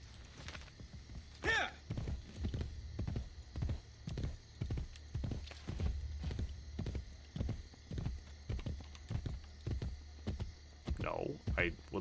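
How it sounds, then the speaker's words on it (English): Horse hooves clip-clop steadily at a walking pace in the video game Assassin's Creed Brotherhood, quiet and regular throughout, with a couple of brief whinnies and a low background hum. "Thankfully, my horse just kind of follows me around."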